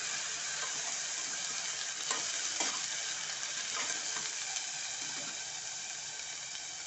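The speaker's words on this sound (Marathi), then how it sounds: "आता हे आपलं कांदा खोबऱ्याचं जे वाटप असतं ते टाकते मी ते छान परतून घ्यायचं आहे" Onion and coconut masala paste sautés in a pan while cooking stuffed tondli (ivy gourd) curry, giving a steady, even sizzle with a few soft stirring scrapes and no talking.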